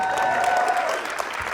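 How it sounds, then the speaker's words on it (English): Live audience applause at a comedy podcast taping in Pittsburgh, a short burst of crowd clapping mixed with a lingering sustained tone at the start, tapering off slightly. "It's amazing that people clap for that."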